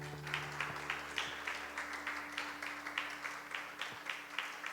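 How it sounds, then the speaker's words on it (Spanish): Church congregation at a service applauding, a steady quiet patter of many hands clapping in rhythmic waves, somewhat distant, with a low hum underneath. "Vamos a darle un fuerte aplauso a Dios."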